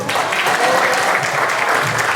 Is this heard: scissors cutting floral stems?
no